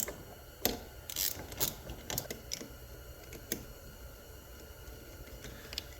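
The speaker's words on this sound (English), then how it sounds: "let's go ahead and remove these two 10mm bolts" Mechanical clicks and ratcheting from wrench work removing two 10mm bolts on a Polaris 350L engine, a few sharp metallic taps and clicks scattered over a quiet, close background.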